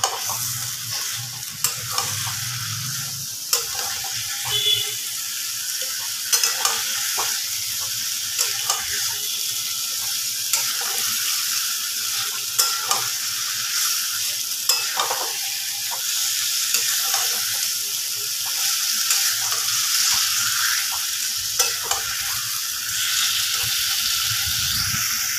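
Marinated chicken sizzles and fries in a pan while being stirred, with repeated scraping and clinking strokes over a steady bright hiss, close and continuous.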